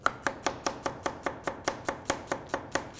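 A knife finely chops onion on a cutting board in Anatolian home cooking, with about fifteen sharp, evenly spaced chops in quick, steady rhythm, close and clear with no talking.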